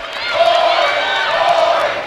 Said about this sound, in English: Lincoln crowd starting to chant now after 45 seconds that it's boring